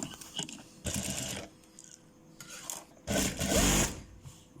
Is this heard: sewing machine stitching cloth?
yes